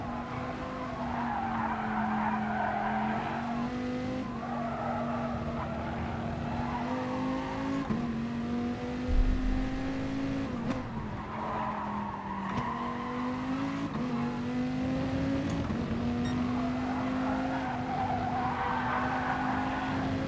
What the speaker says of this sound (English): The tyres are just squealing.